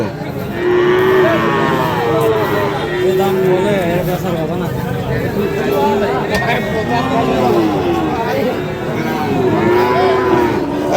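Sahiwal cattle, including bull calves, low repeatedly and loudly at a busy livestock market, drawn-out moos overlapping one another while people talk and bargain in the background.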